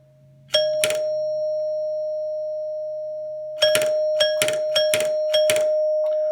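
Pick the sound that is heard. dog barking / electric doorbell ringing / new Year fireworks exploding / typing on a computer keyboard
electric doorbell ringing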